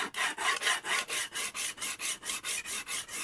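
A chisel is rubbed back and forth on an 80 grit sharpening plate in a steady rasping rhythm of about a dozen even strokes, close and clear with no talk.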